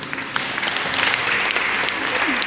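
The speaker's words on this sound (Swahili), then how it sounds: "Kwa mimi ningempigia Yesu makofi mengi mengi," A church congregation claps and applauds for Jesus during a Swahili sermon on prayer, with dense, steady applause sustained throughout and faint voices mixed in.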